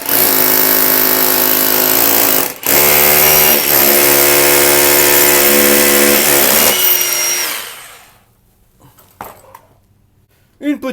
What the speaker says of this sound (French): Tu prends une perceuse avec une petite mèche de 6.